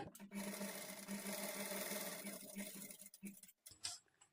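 A sewing machine runs steadily while stitching the fall onto the edge of a saree, a continuous close mechanical whir with a regular ticking pulse, slowing and stopping near the end.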